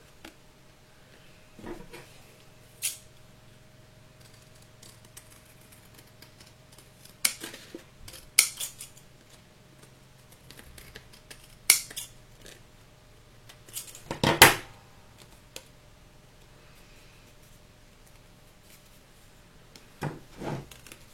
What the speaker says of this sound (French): découper le papier qui dépasse